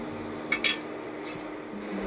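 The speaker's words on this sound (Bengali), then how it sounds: "এবার আমি একটু কড়াটা চেঞ্জ করে নেবো" A metal wok is handled on a stove, giving a couple of sharp clanks close by over a low kitchen hum.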